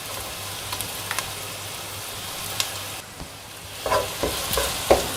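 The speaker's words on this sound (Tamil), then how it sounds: "இப்போ நான் இஞ்சி பூண்டு பேஸ்ட் சேர்க்குறேங்க" Ginger garlic paste frying with onions in a pan for a spicy potato gravy, a soft continuous sizzle with occasional stirring scrapes and small pops growing more frequent near the end.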